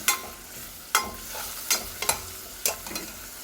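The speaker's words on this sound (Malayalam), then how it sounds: "ഇനി ഇതെല്ലാം ഒന്ന് കരിഞ്ഞ് മൂത്ത് വരട്ടെ." Small onions and spices frying in oil in a pan for mutton soup, with a constant close sizzle broken by several sharp scraping stirs of a spoon against the pan, no talk.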